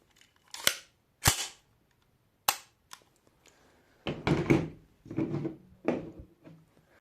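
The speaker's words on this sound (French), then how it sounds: "en fin de chargeur, tu as ta culasse qui reste à l'arrière" A VZ61 Skorpion's bolt locks back on an empty magazine: a few sharp, loud metallic clacks spaced apart, followed by softer rattling and handling noises near the end.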